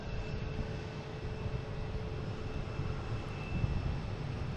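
An American Airlines jet passes by at Boston Logan International Airport, its engines making a steady, even broadband roar at moderate distance that holds for the whole stretch with no talking.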